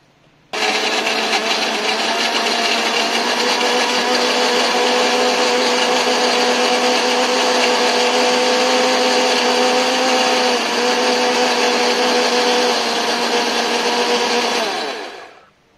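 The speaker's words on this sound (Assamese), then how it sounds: "মই এইটো ঢাকন লগাই ব্লেন্ড কৰি ল'ম" A blender whirs steadily for about fourteen seconds, grinding cashews and dates with liquid into a thick paste for lassi. It starts abruptly, holds a loud, even motor drone throughout, and stops at the end, with no talking.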